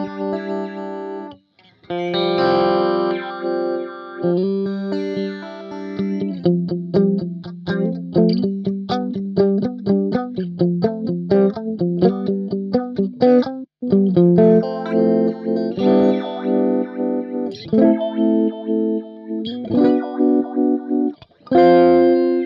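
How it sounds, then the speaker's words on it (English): Electric guitar through a DigiTech XP200 Modulator pedal set to manual phaser, the sweep moved by foot, plays a busy, close, loud riff of chords and quick single notes whose tone shifts and whooshes as the phase sweeps. "Then we're going into, again, manual phaser. So you control the sweep with your foot."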